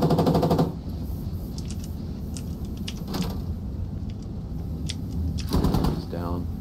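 Machine gun fire in the military shooter game Squad, with a sharp burst at the start, scattered distant shots through the middle and another close rattling burst near the end, over steady background ambience.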